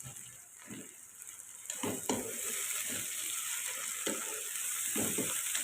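Chopped tomatoes sizzle in a pan for dal palak while a spoon stirs them, a constant frying hiss broken by repeated scraping strokes, close and fairly loud.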